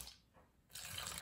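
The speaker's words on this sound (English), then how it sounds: "you're gonna pour your 1/4 cup of vinegar into your empty bottle" A quarter cup of vinegar pours into an empty bottle, a soft, close splashing trickle that starts briefly, pauses, then runs steadily to the end.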